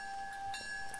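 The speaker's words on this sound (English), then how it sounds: "Huh? What's that sound? No way. Oh my god. Is that the train?" A train's bell-like tone rings out in a video game train build made with trash can lids, a steady faint pair of sustained pitches with a light clank near the end.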